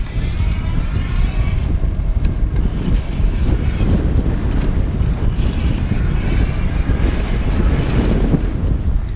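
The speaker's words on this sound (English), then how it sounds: "Sorry for the windy day out here in the desert" Heavy, steady desert wind buffeting the microphone with a constant low rumble throughout, no voices.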